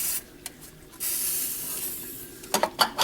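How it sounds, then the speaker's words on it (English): WD-40 spray hisses in short bursts onto turbo exhaust band clamps of a Ford F250 6.0 Powerstroke: a few quick squirts, a long steady spray, then several rapid puffs close by. "You spray them with WD-40"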